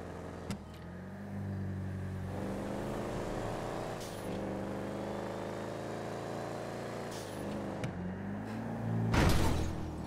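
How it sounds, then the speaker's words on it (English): Small clown car driving in GTA V: a steady engine hum rising and falling through shifts, with a short knock near the start and a louder rushing burst toward the end. "This little clown car is fast."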